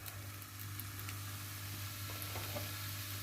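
Peppers and onions fry in olive oil in a small pan, giving a steady, close sizzle with a low hum under it and no talk.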